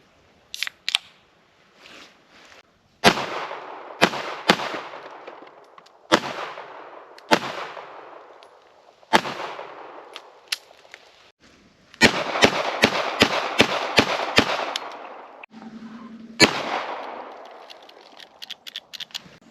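Sharp, loud gunshots from a Ruger LCP pistol fired at soda containers, starting as spaced single shots with echoing tails, then a rapid string of about eight shots before more scattered reports.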